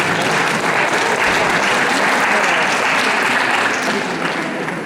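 Audience at a contemporary art salon in Sallertaine applauds an artist, a steady dense wash of clapping from many hands that holds loud throughout and tapers slightly at the end.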